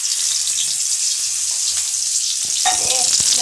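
Banana stem pieces deep frying in hot oil, a loud, steady sizzle and crackle that fills the whole stretch, with a brief stir or bubbling flare near the end.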